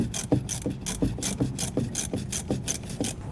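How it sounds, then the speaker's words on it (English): Bolts are worked loose from an old RV black water tank waste valve, giving a quiet, rhythmic scraping and ratcheting pattern, about a dozen evenly spaced strokes close by. "You can start by removing the bolts on our old one now."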